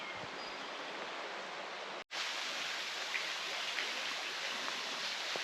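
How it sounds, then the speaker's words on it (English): A small waterfall and stream on a wooded hiking trail send out a steady, close, broadband rush of water that breaks off for a moment and then continues. "Little waterfall there."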